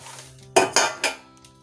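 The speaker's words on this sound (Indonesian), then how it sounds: "Ini airnya udah mendidih, udah tinggal direndam aja ini spons-sponsnya." Dish sponges dropped into a pot of boiling water during household cleaning, giving three sharp clattering, splashing hits in quick succession, close and fairly loud, with a quiet bubbling background and no talking.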